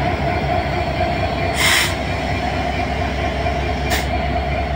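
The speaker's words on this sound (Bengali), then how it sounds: "দেখেন আস্তে আস্তে গতি বাড়তেছে।" A train rumbles steadily as it pulls out of Tangail railway station, heading toward Rajshahi, with a constant loud roar of rolling wagons and two brief high squeals of wheels.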